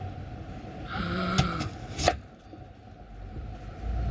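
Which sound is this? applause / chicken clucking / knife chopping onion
knife chopping onion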